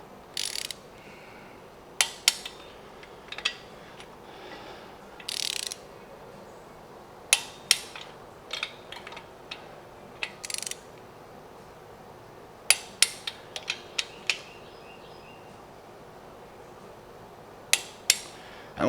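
Ratchet and torque wrench re-torquing bolts on a fire-damaged 1969 VW Beetle 1600cc engine, giving close, sharp clicking bursts at irregular intervals over a quiet background.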